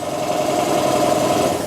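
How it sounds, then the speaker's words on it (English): A small air compressor running to fill electric bike tires, a loud, steady rapid chugging drone with a fast pulsing rhythm, close and alone. "All right, I got my compressor going"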